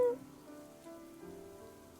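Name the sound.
rain hitting an umbrella in the video game I Wani Hug That Gator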